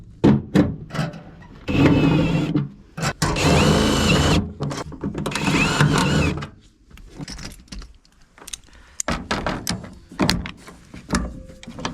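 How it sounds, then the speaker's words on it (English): Self-tapping screws driven into a truck box on an old Ford OBS pickup with a power drill: several bursts of whirring, grinding drill runs a second or two long, close and loud, separated by quieter handling clatter and short taps. "I'm just gonna throw some self-tappers in it."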